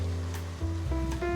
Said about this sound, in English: I'm using passata, and I'll just add this in